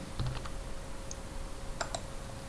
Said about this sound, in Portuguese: Quando a gente clica nesse botão